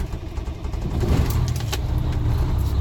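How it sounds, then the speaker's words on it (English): A truck engine cranks and catches, then settles into a steady rumbling idle close by, with brief clicks and a hiss over the running motor. "I will now safe start my truck."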